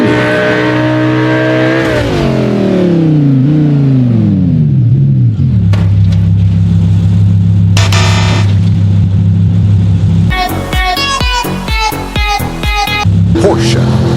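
A Lamborghini engine in the BeamNG.drive video game revs and shifts up and down in pitch, a loud close roar that settles into a steady drone before a burst of rapid crashing and clattering impacts; a voice speaks briefly.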